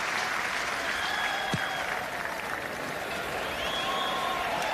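Stadium crowd applauding a New Zealand try against Italy at the 1991 Rugby World Cup, a steady broad roar of clapping and cheering that carries through the whole stretch at even loudness.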